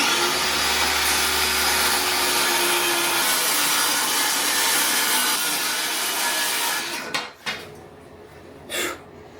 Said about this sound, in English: I'm going to cut this down another a half inch or so